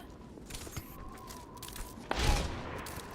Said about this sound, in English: 2 very near shots there. No one taking any damage as of yet.